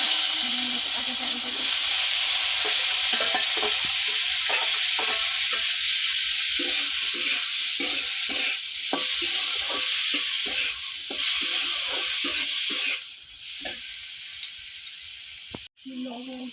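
Garlic and green chili fry in oil over a wood-fired stove, a loud continuous sizzle with repeated stirring scrapes and clatters throughout, ending with a sharp knock.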